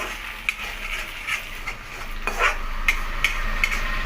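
Egg fried rice is stir-fried in a pan, with a faint steady sizzle and a spatula clicking and scraping against the metal every half second or so.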